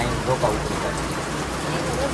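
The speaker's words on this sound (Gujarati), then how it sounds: "વરસાદ આવી ગયો" Rain coming down at a fair in Bagdana, a dense, loud, even hiss of falling drops close around, with no break across the short stretch.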